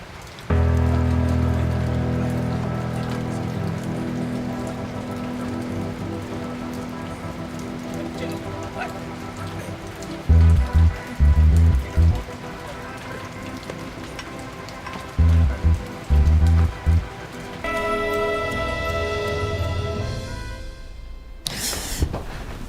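Steady rain falls on a surface outdoors at a busy loading area, a continuous dense patter with heavier thumps and a swelling rush near the end, alongside background activity.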